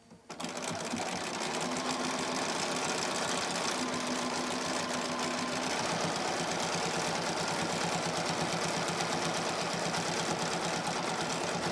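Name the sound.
sewing machine stitching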